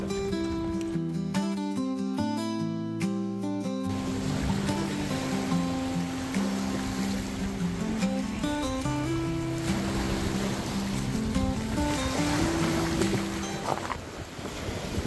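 Water washes in over a shoreline with a steady, broad roar of surf and wind, loud and close. Music plays briefly at the start.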